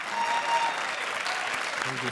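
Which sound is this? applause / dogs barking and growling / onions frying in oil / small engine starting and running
applause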